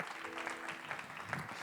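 A church congregation claps to welcome the pastor, a soft, continuous spatter of applause at moderate distance with a faint voice underneath.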